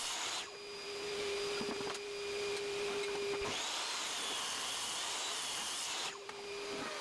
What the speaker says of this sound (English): On the planer I finalized by planing the opposite face from earlier